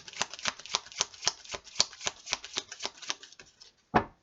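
Tarot cards are shuffled by hand in a quick run of crisp, rhythmic flicks and riffles, ending with a single sharper snap after a brief pause.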